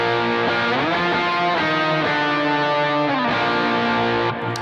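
Distorted electric guitar plays a melody in octaves with sliding notes, sustained and thick, close and loud, alone.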